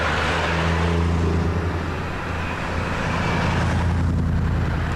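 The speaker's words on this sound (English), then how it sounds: "Here we have the Triumphs, TR7s and TR8s" Triumph TR7 and TR8 sports cars roll past in a convoy, a steady broad engine and road rumble that stays loud and close throughout, with no voices over it.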